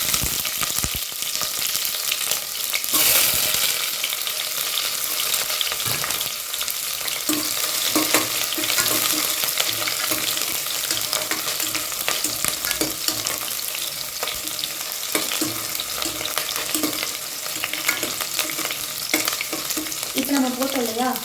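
Small shallots frying in oil with cinnamon and cloves for a mutton curry, a dense steady sizzle with stirring scrapes throughout, close and loud, no speech.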